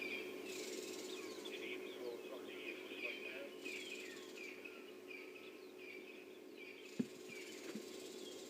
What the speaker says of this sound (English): another bird alarm calling